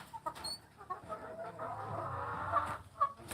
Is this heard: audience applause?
no